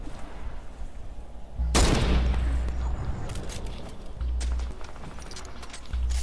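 A loud burst of Fortnite gunfire erupts, followed by scattered shots and echoing booms against a steady low rumble, with brief bursts repeating later.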